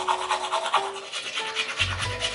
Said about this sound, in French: on se brosse les dents